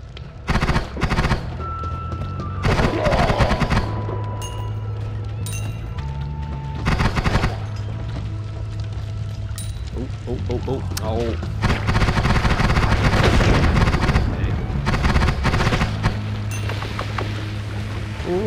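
A rapid-fire weapon in Noita spraying shots in long dense bursts with short breaks between, loud and crackling, with a low hum beneath and someone talking over it.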